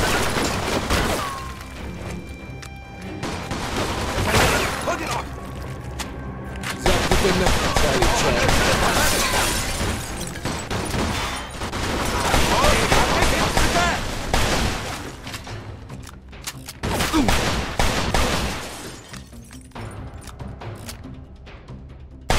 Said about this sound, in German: Pass auf, sie schießen von oben!